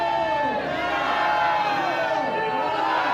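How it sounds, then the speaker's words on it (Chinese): Temple worshippers at a temple reopening ceremony cheer and shout together in a loud, sustained crowd roar that stays steady throughout, with a mass of voices blending into one continuous wall of sound. "信众大声欢呼"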